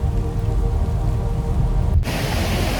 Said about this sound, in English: I've never seen this much of rain in my life, like my entire life